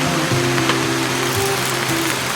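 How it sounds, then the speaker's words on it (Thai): Steady rain patters on a mini campervan parked beside a stream, a dense, even hiss close by with a low tonal hum running underneath. "ฝนตกแปะลงมา"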